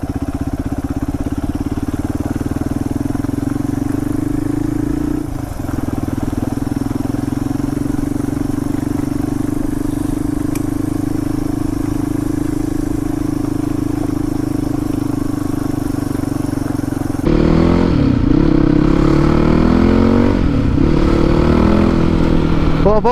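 A Yamaha WR450F motorcycle fitted with a new exhaust baffle idles with a steady, loud thumping exhaust note for most of the clip, then revs sharply in several rising and falling bursts near the end.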